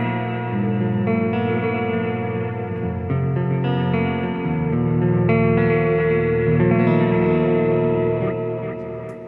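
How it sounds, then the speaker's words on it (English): Guitar played through a Walrus Audio Qi Etherealizer pedal with chorus and reverb stacked, delay off, giving sustained shimmering chords with lush echoing tails, loud and steady with no talk. "I'm gonna pull the chorus back up, my delay off, bring my reverb back in"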